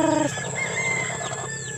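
Chickens with newly hatched chicks give short clucks and soft chirps in a brief, close burst, with a low background hum.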